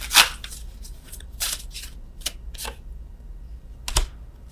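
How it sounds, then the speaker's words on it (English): Tarot cards are shuffled by hand in a few sharp, riffling bursts separated by short quiet gaps, close and crisp, with no talking. "I'm shuffling these cards again"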